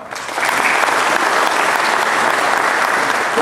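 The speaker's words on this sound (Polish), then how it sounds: "Niemniej proszę o brawo." Audience at an anniversary gala for local self-government applauding, a dense, loud, even burst of clapping that swells in quickly and holds steady throughout.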